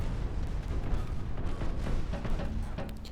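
Naval guns fire steadily in the Ultimate Admiral: Dreadnoughts naval battle game as smaller guns pound transports. The result is a dense, continuous rumble of booming shots and blasts, with a few sharper reports near the end.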